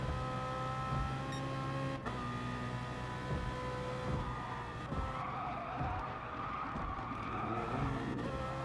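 Gr3 race cars lapping Tokyo South Inner Loop in the Gran Turismo video game, a continuous high-revving engine drone with shifting pitch and brief tyre noise, steady and fairly loud throughout.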